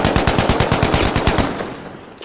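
Rapid automatic fire from the Ribeyrolles 1918 rifle in Battlefield V, a loud steady rattle of about a dozen evenly spaced shots that trails off and fades near the end.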